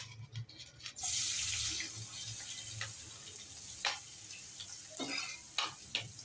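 Onion goes into hot oil already seasoned with cumin and asafoetida. A sudden loud sizzle erupts about a second in and keeps hissing, with scattered clicks and clinks of stirring on top.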